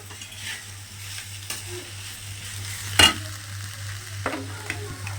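Soft sizzling of tomatoes sautéing in a pan for mutton curry, with occasional stirring scrapes and a sharp clink of a utensil against the pan.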